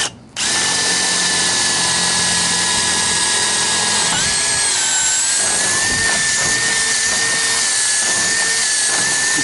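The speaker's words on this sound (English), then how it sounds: "We'll use this drill bit to drill up." A power drill bit reams up through a hole in a greenhouse frame during a rehab, whining loudly and continuously for the whole stretch, its pitch wavering slightly as the bit bears down.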